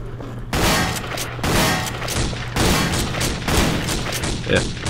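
Rapid bursts of gunfire from the video game Codename Cure fire in dense, overlapping volleys, loud and close, with a few sharper booming hits.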